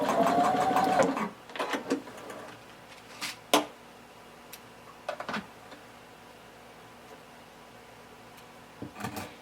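Sewing machine putting a couple of short tacking stitches into a pant leg, a brief close whir at the start followed by scattered clicks and handling taps in quiet surroundings.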